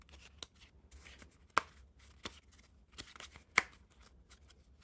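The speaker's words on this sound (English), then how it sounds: "they will pack cut pretty nicely" Theory11 Blue Tycoon playing cards being pack cut by hand, soft papery shuffles and slides punctuated by two sharper snapping taps, close and quiet with no talking.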